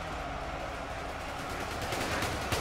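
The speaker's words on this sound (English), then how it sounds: "They're all firing." Massed gunfire from huge armies clashing in the Ultimate Epic Battle Simulator, German and American forces trading fire as a dense, continuous crackling roar of many guns at once, steady and loud throughout.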